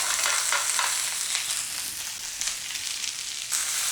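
A stir fry sizzles loudly in a smoking-hot pan, a dense, steady hiss of frying that carries on unbroken from start to finish with small crackling bursts and no talking.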